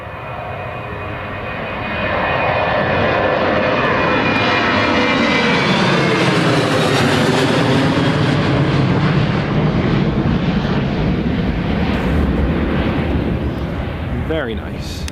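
A Jet2 airliner takes off at Newcastle International Airport, its jet roar building from quiet to a loud, sustained rush that sweeps past with a shifting pitch and lingers as it climbs away, with a voice talking faintly underneath.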